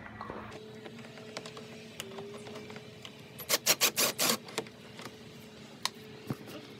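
A 7mm bolt is loosened on a 2015-2017 Ford Mustang bumper where it meets the fender, giving a quick burst of five or six close, sharp ratcheting clicks amid quiet shop ambience and faint tool taps.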